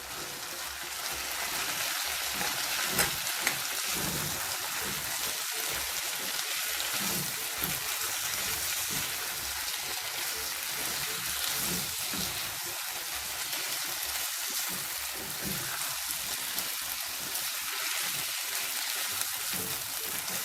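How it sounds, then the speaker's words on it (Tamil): Cubed potato fries in oil with onion and tomato, a dense, even crackling sizzle that holds steady for about twenty seconds, close and unbroken, with no one talking. "இந்த பொட்டேட்டோ கொஞ்சம் வேகட்டும், எண்ணெயிலே நல்லா வேகட்டும்"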